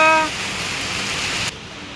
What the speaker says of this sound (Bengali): প্রচুর জোরে বৃষ্টি নামছে